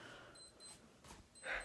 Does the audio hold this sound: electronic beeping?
yes